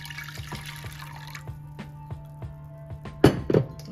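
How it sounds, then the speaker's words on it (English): Distilled white vinegar pours into a large bowl already holding water, a soft trickling stream with a faint repeating tick, ending in a couple of sharper clinks. "Next, you are going to pour in 1/2 cup of distilled white vinegar."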